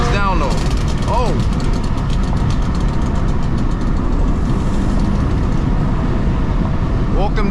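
A BMW M2 on a late-night drive, its engine droning steadily under the road noise as it pulls hard through the gears into fourth, with someone talking excitedly over the cabin sound.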